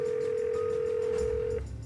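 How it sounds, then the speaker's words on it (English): A steady, unbroken electronic tone from a call placed to a studio telephone, heard through the handset for about a second and a half before cutting off, with no voices. "So you're now ringing the studio phone."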